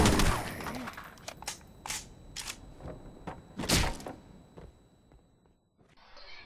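Halo 3 weapon fire at point-blank range: a handful of sharp, separate gunshot bursts spaced unevenly across several seconds, close and punchy, fading to near silence before a brief soft noise at the end.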